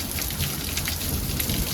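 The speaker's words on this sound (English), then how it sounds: "you can see the rain over there" Rain falling during a small monsoon storm in Vail, Arizona, a dense continuous patter of drops on surfaces, even and fairly close, with a low background rumble.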